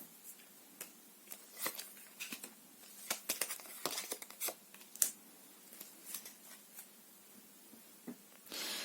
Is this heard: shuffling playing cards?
yes